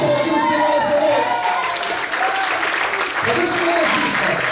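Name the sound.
congregation applauding in church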